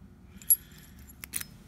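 A pair of original keys for a black-finished lock cylinder jingle in a few brief, close metallic clinks with quiet gaps between them.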